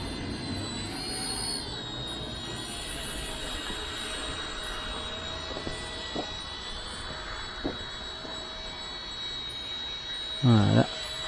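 A small ERA C127 RC model helicopter hovers outdoors in calm air, giving off a steady high-pitched rotor and motor whine throughout, with a few faint clicks and a short loud burst near the end.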